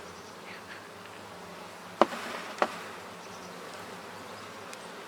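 Honey bees hum steadily around a brood frame lifted during a hive inspection, a low continuous drone with two brief sharp clicks partway through.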